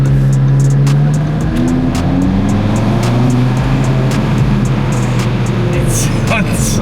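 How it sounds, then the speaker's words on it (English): Stock exhaust of an Audi RS3 8V revs in a steady, loud, droning engine note that rises and holds throughout, heard from inside the car with a voice talking over it. "Listen to the exhaust."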